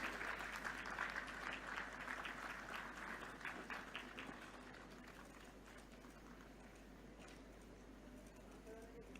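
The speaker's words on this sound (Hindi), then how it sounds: "तालियों के साथ हम स्वागत करें।" Applause at an official government event in Bhopal, greeting the release of a booklet for a 100-day Nikshay camp campaign. The clapping is moderately loud at first and thins out gradually, with no voices heard.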